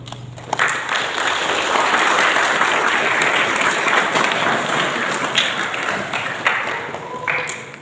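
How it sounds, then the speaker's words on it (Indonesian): Audience at a Ramadan religious lecture event breaking into applause, a sustained loud burst of many people clapping that swells and slowly tapers, with scattered sharper claps near the end. "Tepuk tangan."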